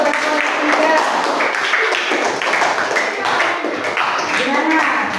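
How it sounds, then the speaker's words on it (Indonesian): A classroom of students applauds group 3, a dense, continuous patter of many hands clapping close by for several seconds. Voices and cheering mix in underneath. "kita kasih tepuk tangan dulu untuk kelompok 3"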